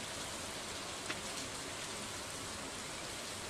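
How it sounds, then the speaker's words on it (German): Steady, even rain in the video game Stardew Valley hisses throughout, a soft continuous patter with no voices or other sounds. "Jawohl, es regnet"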